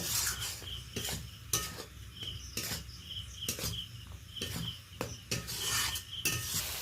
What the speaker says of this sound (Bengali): এটা এবার সমস্ত কিছু মিশিয়ে নেব ভালো করে, মশলাটা ভালোভাবে কষিয়ে নেব।